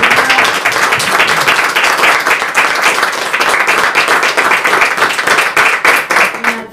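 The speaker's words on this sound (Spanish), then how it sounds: "Un aplauso para todos." An audience at a press conference in Ushuaia bursts into sustained applause, loud rapid overlapping claps continuing evenly for several seconds.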